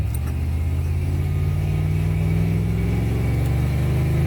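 A taxi car's engine revs and accelerates up through the gears on a rainy day, a steady loud mid-range drone with rising harmonic sweeps, close and continuous with no talking.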